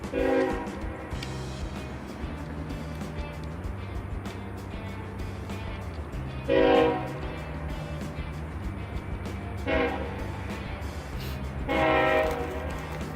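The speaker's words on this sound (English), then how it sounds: "Ah, that's the train." A train rumbles steadily past for the whole stretch, its horn sounding in several loud blasts near the middle and end.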